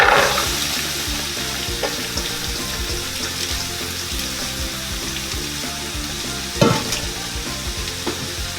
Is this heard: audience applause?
no